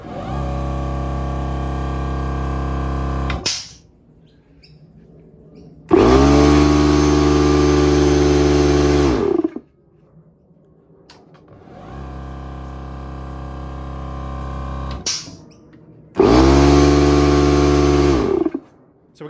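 A Lincoln 240-volt air compressor runs in loud, steady motor bursts of a few seconds each, separated by quieter stretches of lower hum.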